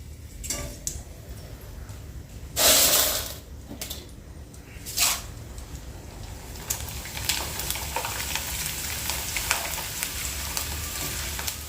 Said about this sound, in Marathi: एक मक्याचा पोह्या टाकून बघते मी मस्त तेल तापलं आहे